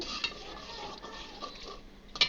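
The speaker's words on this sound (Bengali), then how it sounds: "তো আমি মশলাটাকে কষাইতেছি" Spice paste being stirred and fried in a pan for a village-style chicken and potato curry, with a soft steady sizzle, occasional spoon scrapes and clinks against the metal, and a sharper clatter near the end.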